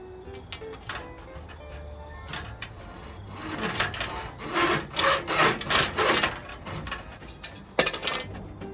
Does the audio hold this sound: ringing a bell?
no